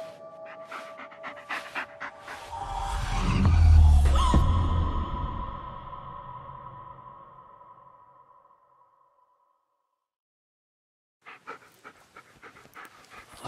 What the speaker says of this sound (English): Just take the damn dog, Ellis.